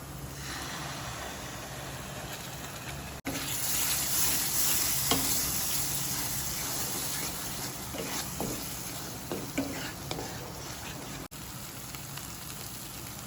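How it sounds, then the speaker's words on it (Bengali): Masala paste for egg curry fries in a pan with a steady, rain-like sizzle, interrupted by brief cuts and scattered scraping and tapping as it is stirred, louder after the first few seconds. "দশ মিনিট মতন আমরা কষিয়ে নিয়েছি মশলাটাকে"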